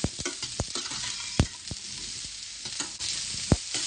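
Chunks of bottle gourd sizzle steadily in a hot pan while a spatula scrapes and knocks through them in irregular strokes, a few sharp clacks standing out close by.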